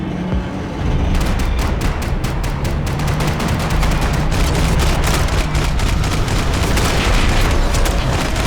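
Sustained gunfire from a Max Payne 3 shootout, with dense rapid shots and bursts crackling continuously over a heavy rumbling backdrop, loud and close throughout.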